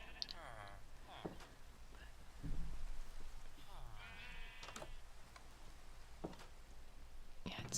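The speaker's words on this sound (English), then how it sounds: "I just had the black and the white sheep, and now I have a few different colors of them" Sheep bleat in the video game Minecraft, several wavering cries at intervals, fairly faint behind a soft voice talking, with light tapping and a steady background hiss.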